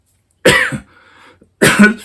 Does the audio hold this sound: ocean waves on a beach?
no